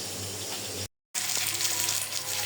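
Fish fries in a pan in a home kitchen, a steady broadband sizzle that cuts out abruptly for a moment and then resumes at the same level.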